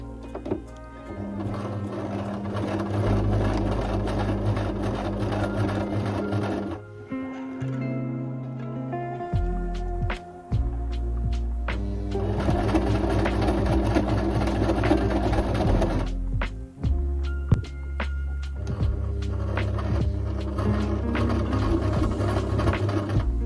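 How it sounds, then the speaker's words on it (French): Sewing machine stitching the seam of a Peter Pan shirt collar through three layers, a close steady mechanical whir running in long bursts and broken by brief stops and small clicks, with no voices. "c'est aussi le long de cette couture qu'on va venir coudre pour assembler nos 3 épaisseurs"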